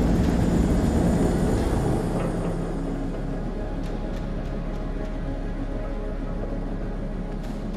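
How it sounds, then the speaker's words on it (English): Military helicopter landing in the video game Man of Medan, a loud, steady low rumble and rotor roar that eases slightly after the opening seconds, with no voices over it. "there's a helicopter landing here"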